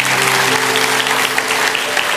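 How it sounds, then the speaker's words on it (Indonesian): A church congregation applauds together in a dense, steady wash of clapping, loud and close, with a few voices faintly mixed in. "Kasih tepuk tangan untuk Tuhan."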